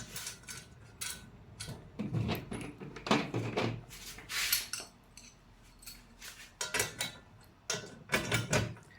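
A bolt, washer and locking nut are fitted through a grill deck mounting bracket, producing a series of small metallic clinks, taps and rattles of hardware close by, scattered in quick bursts.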